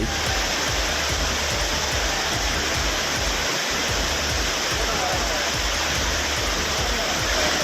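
Water crashing down at Courtallam Main Falls waterfall in Tamil Nadu, a dense, loud, unbroken roar of spray and splashing that fills the scene from start to finish.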